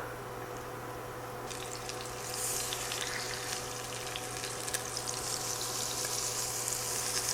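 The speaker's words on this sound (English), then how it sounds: "So I'm going to take the pork chop and start laying them in a single layer." Pork chops laid into a hot skillet of oil with onions and potatoes; after a quiet couple of seconds a bright, steady sizzle rises and holds, with faint crackles on top.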